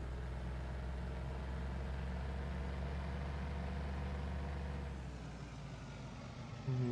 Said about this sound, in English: This is a nice truck.